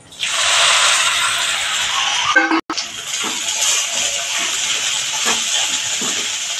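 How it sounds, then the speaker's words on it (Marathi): Loud, steady sizzling hiss of sago and crushed peanuts hitting hot tempering oil for khichdi, with a brief clatter and a short gap before the frying continues. "आता हे आपण फोडणीला टाकूया."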